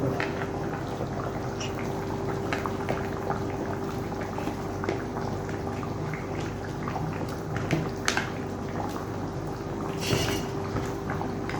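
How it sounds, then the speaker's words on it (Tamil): Pot of Tamil village-style dried fish curry (karuvadu kuzhambu) boiling steadily, a continuous close bubbling and simmering with occasional small pops, no voices. "இப்போ குழம்பு கொதிச்ச பிறகு இந்த கருவாடு மீதி கருவாடை நான் போடுறேன்"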